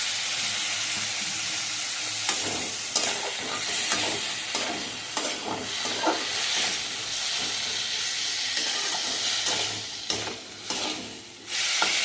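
Gima greens and potatoes sizzle and hiss loudly in a pan just after water is added, a steady steamy frying roar broken by the scrape and clatter of stirring, with no talking.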